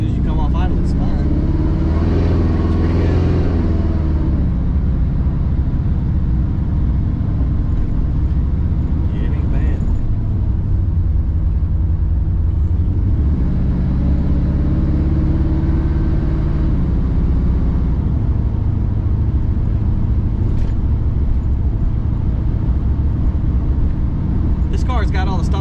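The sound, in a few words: Oldsmobile Cutlass engine revving off idle while driving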